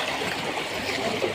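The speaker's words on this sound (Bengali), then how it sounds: "আর এই গত কালকের বৃষ্টি, রাস্তায় পানি।" Rainwater flooding a road after heavy rain, a continuous rushing, trickling flow of water, moderately quiet and steady with no voices.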